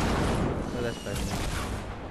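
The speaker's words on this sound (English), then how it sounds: "they're just shooting" Dense, rapid gunfire from a Fortnite match crackles and booms continuously, mixed with explosive thuds, while a person talks over it throughout.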